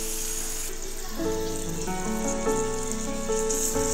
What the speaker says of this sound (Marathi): असे सर्व मी तळायला ठेवलेले आहे, बघू शकता तुम्ही